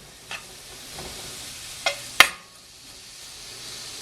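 Garlic and onion sautéing for Caribbean crab callaloo, a soft continuous sizzle in a pot broken by a few sharp utensil clinks and stirring knocks, close and otherwise quiet.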